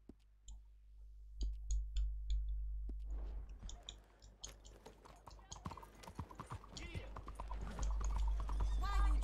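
Horse hooves clip-clop steadily in Red Dead Redemption 2, starting sparse and building into a quicker gait, with a voice speaking over the game audio.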